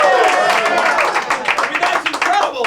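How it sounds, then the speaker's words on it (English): An audience at a magic show claps, dense clapping running under a voice talking over it, fairly loud and close throughout. "You can applaud."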